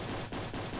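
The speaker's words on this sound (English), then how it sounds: "I'm going to smoke him with this SMG right here." Rapid SMG fire in the Roblox battle royale game Island Royale, a dense continuous burst broken by two brief gaps, loud and close with no talking.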